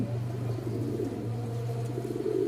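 A Lahori or racer breed pigeon coos close up, steady soft rumbling calls repeating without pause over a low constant hum.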